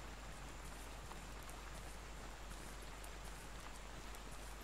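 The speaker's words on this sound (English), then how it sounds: "It sounds like our rain's getting heavier" Rain falls in the military game Arma 3 as the storm grows heavier, a steady dense hiss of drops with no voices, quiet and unbroken throughout.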